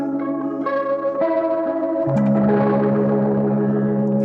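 Sustained guitar chords through a Boss GT-1000 Core drenched in a swirling, warbling modulation effect with reverb, one side slowed and the other sped up, shifting pitch steadily with no voices.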